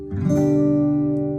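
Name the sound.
acoustic guitar strum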